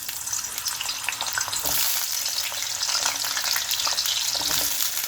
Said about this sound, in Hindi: अब दूसरी साइड से हम आलू फ्राई कर लेते हैं